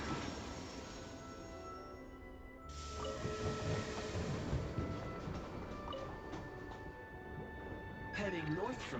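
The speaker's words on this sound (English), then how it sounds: "Call the train." A train arriving in the video game Genshin Impact, in a snowy land: a broad rumbling hiss that swells partway through, with metallic ringing tones over it and a wavering whine near the end.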